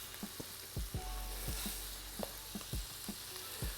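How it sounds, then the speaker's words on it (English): Garlic butter shrimp sizzle and fry in a crowded pan, a steady broadband hiss with repeated soft clinks and scrapes of a utensil stirring, close and moderately loud, with no talking. "Get these bad boys sizzling."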